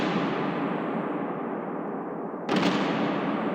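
A stomp sample run through EQ with the low end cut and Valhalla Supermassive reverb becomes a long, washy reverberant tail that fades, then a fresh bright hit arrives with its own spreading reverb.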